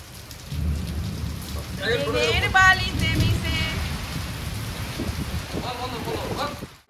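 Rain patters steadily against a window with a low rumbling storm underneath, a dense continuous wash of drops while a couple of people talk briefly nearby.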